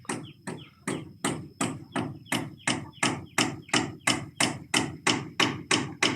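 A hammer drives nails at a house under construction, a steady run of about seventeen sharp, evenly spaced blows, close and loud, each with a short woody knock and no talk.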